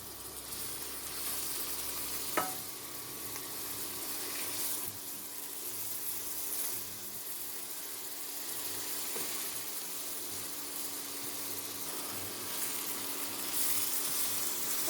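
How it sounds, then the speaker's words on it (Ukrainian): Gentle, steady sizzling of chopped onion sautéing in a pan over medium heat, soft and continuous, with a couple of faint clicks and no voices. "І буквально 2-3 хвилинки ми її пропасируємо."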